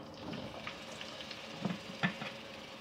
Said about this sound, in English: fry these onions until they turn dark brown in color